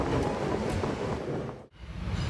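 A train runs toward Hampi in Karnataka: a loud, steady rolling rumble and rattle fills the carriage, dipping briefly before resuming, with no voices.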